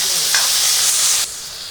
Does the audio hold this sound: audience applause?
no